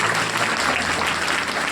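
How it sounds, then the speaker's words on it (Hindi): Church congregation applauding steadily together, a dense continuous burst of clapping from many hands filling a large room, loud and close, with no talk over it. "ताली बजाएंगे उस परमेश्वर को।"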